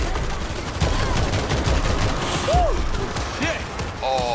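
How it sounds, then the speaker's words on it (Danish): Gunfire in World War Z amid a zombie horde, rapid rattling bursts of shots running through the scene, loud and near, under excited Danish shouting between players. "Jeg står og skyder på ham!"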